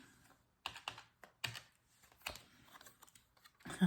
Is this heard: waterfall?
no